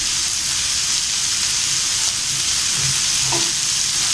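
Chickpeas fry in a pan with freshly ground masala powder for masala sundal, a loud, even sizzle with stirring close by and no talking.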